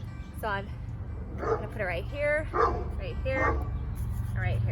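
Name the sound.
dog barking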